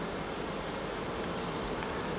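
Honeybees buzzing inside an open hive during an inspection, a steady, dense hum of many insects that holds level throughout with no voices.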